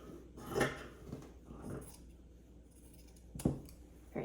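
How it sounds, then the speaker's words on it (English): Sharp fabric scissors cutting through fabric give a few distinct snipping crunches spaced about a second or more apart, close and fairly quiet. "With my really sharp, good fabric scissors, by the way."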